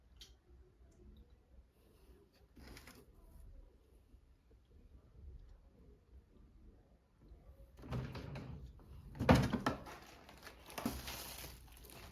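A lower drawer in a makeup and jewelry organizer is pulled open and pushed shut, with quiet rattling early on and then a louder sliding clatter and knock near the end.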